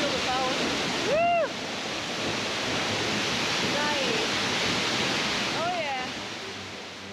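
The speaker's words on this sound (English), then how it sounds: "That's the waterfall!" A powerful waterfall in Triglav National Park, Slovenia, roars as a steady broadband rush throughout, with brief excited voices and whoops over it.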